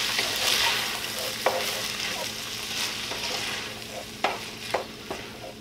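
Cumin, chili powder and drained Rotel are stirred together in a hot pan, giving a steady sizzle with scraping spoon strokes and a few sharp taps against the pan, close up and without talk.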